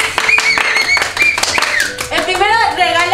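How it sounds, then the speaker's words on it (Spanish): At a Christmas gift party, a group claps in quick bursts while voices shout and cheer over the applause, loud and close. "¡Un aplauso!"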